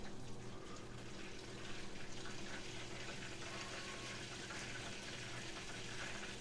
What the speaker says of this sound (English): The sound, we hear it frying.